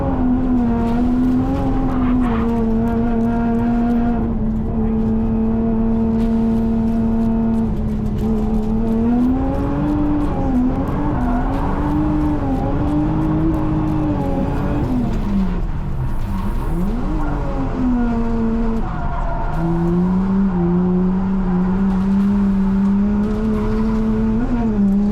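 A drift car engine screams at high revs during tandem drifting on the Ebisu track, holding a loud sustained howl with dips and surges as throttle and gears change, continuous for the whole stretch.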